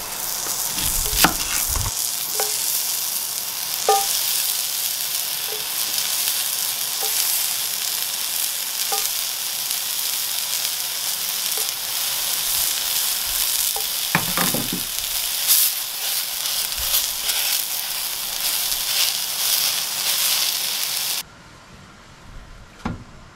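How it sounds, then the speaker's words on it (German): Halved onions placed cut side down in a hot pan for browning, a steady close sizzle and frying crackle with occasional stirring knocks, carrying on alone with no voices until it drops away near the end. "Und jetzt nehme ich 5 kleine Zwiebeln, die werde ich in der Mitte halbieren. Und ebenfalls mit der Schnittseite kurz in der Pfanne anrüsten."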